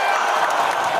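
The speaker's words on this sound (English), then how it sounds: "Cue the applause." A canned applause sound effect plays on a podcast, a short, dense burst of crowd clapping with a hint of cheering, steady and fairly loud for about a second.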